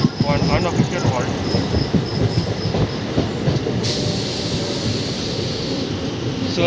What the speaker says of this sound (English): The Memo is slowing down for an unofficial halt.